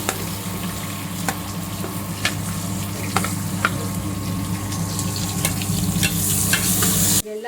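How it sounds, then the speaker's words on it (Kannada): Onion, crushed garlic and cumin fry in a hot pan with a constant loud sizzle, broken by scattered sharp scrapes of the spoon against the pan, close up. "ಎಲ್ಲ ಆಯ್ತಲ್ಲ, ಸ್ವಲ್ಪ ಇದೆಲ್ಲ ಫ್ರೈ ಮಾಡ್ಕೋಬೇಕು."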